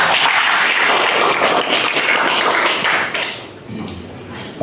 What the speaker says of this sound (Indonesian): Untuk itu kita berikan tepuk tangan.